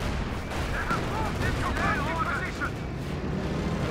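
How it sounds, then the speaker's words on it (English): Field guns fire in the World War II strategy game Company of Heroes 2 during a 1v1 match, a dense continuous wash of booming artillery and gunfire with battle noise and faint voices layered underneath. "Field gun firing here."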